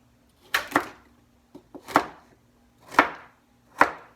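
Carrots being chopped on a board: about six sharp, close knife strikes come in small irregular groups with short quiet gaps between them.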